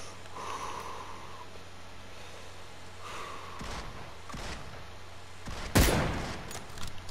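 Gunshots in a first-person video game: a few muffled cracks, then one loud close shot near the end followed by lighter pops, over quiet background hum with no talking.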